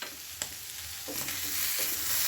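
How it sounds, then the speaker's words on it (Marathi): Potato chutney being stirred together with salt and crushed peanut powder in a pan, a soft continuous scraping and mixing with light sizzle, close and steady with a couple of sharper clinks of a spoon. "आता मीठ घालून सर्व आपण एकजीव करून घेणार आहोत"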